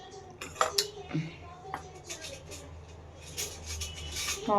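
A spoon clinks against a steel bowl several times in quick, bright taps, fairly close, with faint rubbing and light household background between the strikes and no clear talk.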